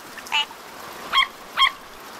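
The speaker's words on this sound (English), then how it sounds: "This frog sounds like a duck, and it has lines on its back" A frog gives three short, duck-like honking croaks, well spaced and fairly clear against a quiet background.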